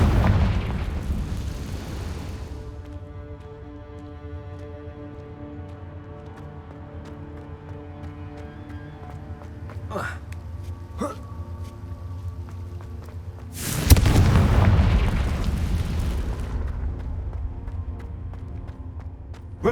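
A Confringo fire spell in the video game Hogwarts Legacy bursts in a loud, sudden whooshing explosion with a rumbling tail, heard alongside an earlier boom, sharp clicks and a steady game ambience.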